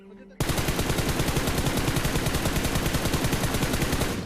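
Rapid automatic gunfire from a PUBG Mobile battle, a dense burst of repeated loud shots that starts abruptly after a brief quiet moment and keeps going steadily to the end.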